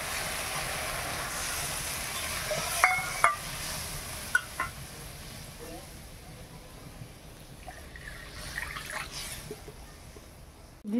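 Water goes into a pan of fried poppy seed and mustard paste, giving a steady hissing sizzle with a few sharp clinks and bubbling bursts throughout, at moderate level.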